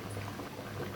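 A pot of bottle gourd curry simmers, bubbling softly and continuously at close range.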